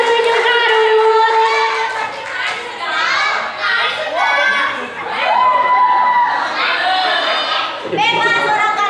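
A school audience at the SMAN 27 Garut arts and literature performance erupts in loud, continuous youthful cheering and shouting, a dense crowd roar close by that rises and falls for several seconds.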